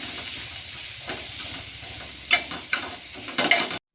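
Chopped onions and green chillies fry in melted butter in a pan, making a steady close sizzle and hiss, broken by a few sharper stirring scrapes near the end before the sound cuts off abruptly.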